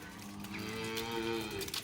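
A cow moos in a long, low drawn-out call, fairly faint and a little distant, with no talking, as cows walk home on a farm.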